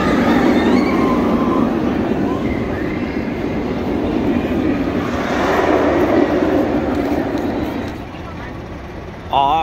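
Batman The Ride, a roller coaster at Six Flags Over Texas, gives a loud, continuous rushing rumble up close that swells and eases, then drops off sharply near the end.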